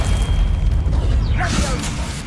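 A Confringo spell explosion in Hogwarts Legacy, a loud close booming blast with a rushing crackle that rises and fades over about two seconds.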